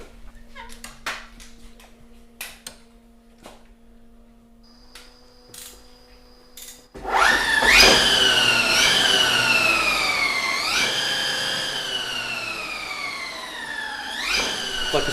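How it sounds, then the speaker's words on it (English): An Arc Vector electric motorcycle powering through its startup sequence, quiet clicks and beeps at first, then a loud rising electronic whine with sweeping, siren-like tones that climbs and repeats, up close and without talk. "I'm just about to start up the Vector now, and what you'll hear is us taking it through its startup process."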